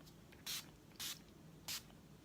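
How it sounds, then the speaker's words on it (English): Urban Decay All Nighter makeup setting spray is spritzed in three short hissing bursts, close and distinct against a quiet background. "we're gonna go in with the Urban Decay All Nighter makeup setting spray"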